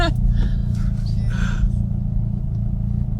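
A 500whp Mitsubishi Evo X accelerates hard through second and third gear, a steady heavy engine roar heard from inside the car with a brief shift break near the start.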